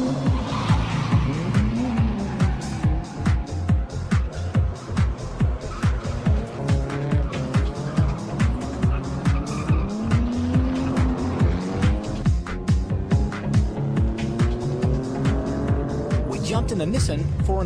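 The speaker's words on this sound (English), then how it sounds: "Jumped in the Nissan for an authentic drift experience." Nissan drift cars slide in pitch-black conditions, their engines revving and tires squealing in repeated bursts as they skid past. A voice talks over the loud, pulsing engine and tire noise.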